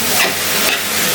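Pumpkin greens stir-fried in a pan give a steady, close sizzle with a few soft scraping stirs and no voices.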